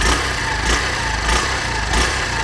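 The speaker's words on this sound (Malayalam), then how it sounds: "എന്ത് സ്മൂത്ത് എൻജിൻ" A Honda Shine 100 DX motorcycle with a 98cc air-cooled engine idles steadily close by, a smooth low putter with slight periodic swells and no talking.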